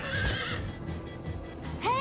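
A horse in the video game Minecraft: Story Mode gallops with quick hoof clip-clops beneath game noise, then lets out a rising neigh at the end.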